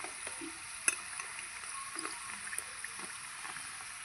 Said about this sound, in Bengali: এবার এগুলোকে ভালো করে ভাজা হতে দেবো।